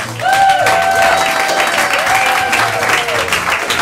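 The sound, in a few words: audience applause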